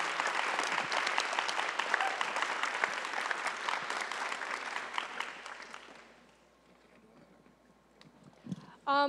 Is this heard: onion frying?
no